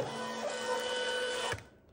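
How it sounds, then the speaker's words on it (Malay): C100 label printer running a test print, a close steady mechanical whir with a faint tonal buzz that stops abruptly after about a second and a half. "Lepas tu tekan test print."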